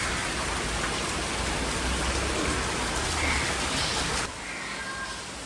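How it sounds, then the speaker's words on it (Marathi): Steady, dense patter of rain falling outdoors, constant and fairly loud, easing slightly near the end. "बाहेर कसा पाऊस पडतोय"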